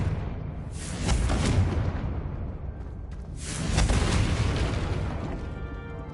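Two heavy booming blasts of the Confringo fire spell in a Hogwarts video game, each a deep loud burst with a rushing tail, spaced a couple of seconds apart.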